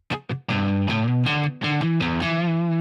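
Single-coil electric guitar played through a Line 6 Helix with the guitar volume rolled down, a few clipped picked notes followed by a run of sustained, mildly driven notes ringing out cleanly and close.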